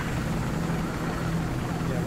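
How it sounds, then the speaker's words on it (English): A dense, steady rotor and engine drone from a transport helicopter in the video game Battlefield Hardline rumbles throughout with no pauses, hovering nearby, broad and noisy. "They got a transport chopper!"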